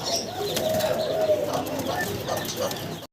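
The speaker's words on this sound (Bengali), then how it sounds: "অসাধারণ সুন্দর দেখতে ইয়েলো কালারের একজোড়া ম্যাকপাই কবুতর এখন সামনে আছে" A pair of yellow magpie pigeons coo close by in low, throaty calls mixed with brief wing flaps and scuffling, amid a busy room.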